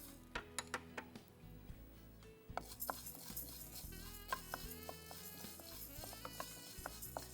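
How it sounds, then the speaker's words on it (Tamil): Coriander seeds dry roasted in an empty pan, giving soft scraping stirs and light ticking clicks of seeds moving against the metal, quiet and steady with no talk. "இப்போ இந்த விதையை எடுத்து நல்லா வெறும் வாணலியில் வறுத்துக்கோங்க."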